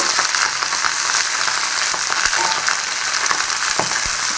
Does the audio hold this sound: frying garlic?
yes